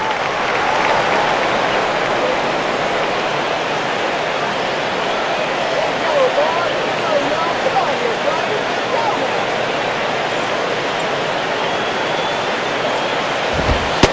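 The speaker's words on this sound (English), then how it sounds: "A little bit of a mock cheer there." A baseball stadium crowd in the video game MLB 10 The Show gives a sustained mock cheer, a broad, even roar of applause and voices lasting throughout without a break.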